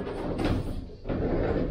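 Sliding door of a VW T2 Bay camper van being taken off during restoration, a short scraping, rolling rattle with a brief pause in the middle, close by.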